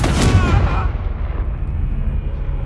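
A single loud blast from the Confringo explosion spell in the video game Hogwarts Legacy, a sharp crackling burst that quickly fades into a low rumbling tail.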